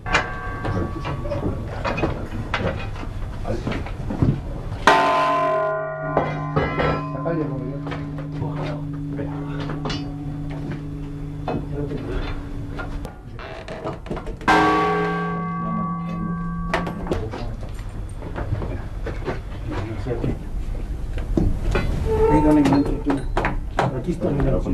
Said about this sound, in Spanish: Estos últimos campaneros de Salas Altas van a repicar y bandear las campanas